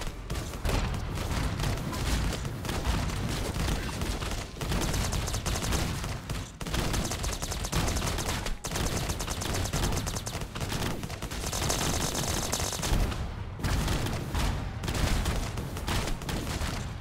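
Rocket launcher fire and explosions in the pirate game Pirate Privateers: a relentless, loud barrage of overlapping blasts and booms that runs without pause for the whole stretch, with no voices.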